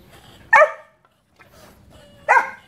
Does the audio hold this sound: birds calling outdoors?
no